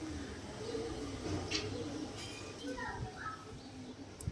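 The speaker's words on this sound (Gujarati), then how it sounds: "બીજા કબૂતરા ખાઈ જાય છે" Pigeons coo softly and low beside a person scattering wheat grains for them, under steady background noise, with faint chirps and scuffles and no clear talk.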